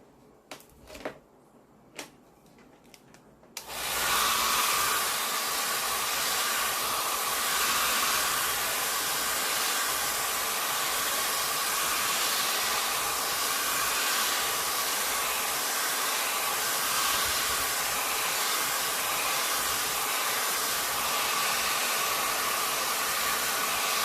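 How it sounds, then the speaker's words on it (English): A hair dryer runs loud and steady close by, blowing to dry wet watercolor paint, switching on after a few seconds of quiet handling noises and then holding an unbroken whooshing roar to the end. "We'll use a hair dryer."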